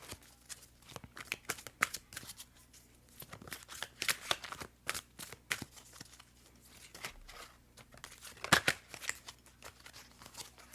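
Tarot cards are shuffled in close, crisp bursts, riffling and sliding against each other in several uneven rounds with short pauses between, quiet and without talk.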